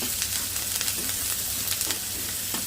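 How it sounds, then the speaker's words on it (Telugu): Onions sizzle and fry in a hot pan, a loud, dense crackle with occasional sharper pops and the faint scrape of stirring, close and alone. "ఉల్లిగడ్డలు వేసుకున్నాక వేగినాక, ఉల్లిగడ్డలు అయితే ఇలా మగ్గినాయి"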